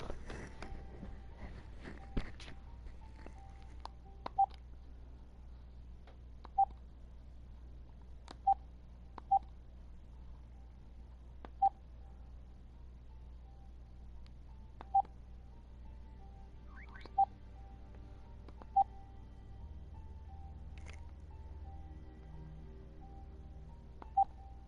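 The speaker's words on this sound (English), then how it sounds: "I gotta make a phone call." Telephone keypad tones beep one at a time at uneven intervals, about ten short dialing tones over a faint low hum, with no one speaking.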